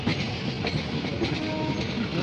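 A meter-gauge passenger train rumbles along steadily with a rhythmic clatter of wheels on rails, loud and close, as if heard from inside a carriage.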